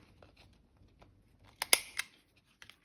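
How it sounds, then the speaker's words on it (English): Scissors snip through small pieces of paper, a few faint quiet cuts and then one sharp, close crisp snip followed by a softer one. "Trim those ones again,"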